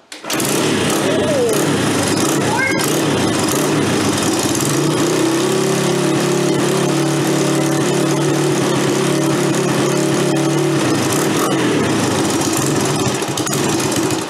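Small engine of a 200X ATC all-terrain cycle running loudly and close, its note climbing and holding higher as throttle is given, then settling, with a voice briefly heard over it.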